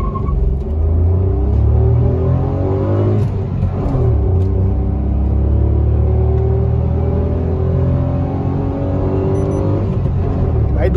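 A Maruti Wagon R running on CNG accelerates hard from a standstill to 80, its engine droning loud and close with rising pitch through the gears, while someone talks over it.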